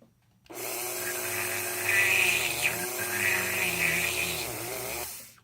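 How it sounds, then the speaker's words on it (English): A high-pitched Dremel rotary tool whines steadily at close range, its pitch dipping and rising as it bites into material drilling out a hole, then stops. "Now take your drill, your Dremel, and we're going to drill that hole out all the way."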